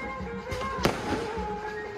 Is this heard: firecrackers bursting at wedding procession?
yes